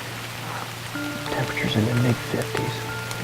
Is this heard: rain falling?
yes